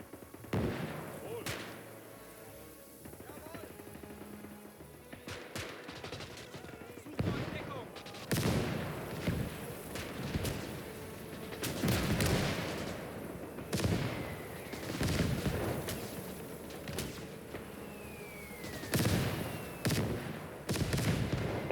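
Mortar fire in the WWII strategy game Call to Arms: Gates of Hell, repeated heavy blasts and crackling gunfire booming at uneven intervals across a noisy battlefield, some near and loud, others farther off.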